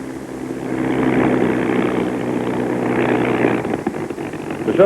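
A Bell P-39 fighter's engine runs steadily while the aircraft taxis in to park, a loud continuous drone with a broad roar and low harmonic hum throughout, rising slightly near the end.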